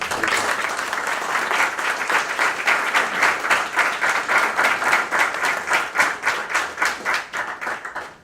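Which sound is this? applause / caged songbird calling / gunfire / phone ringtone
applause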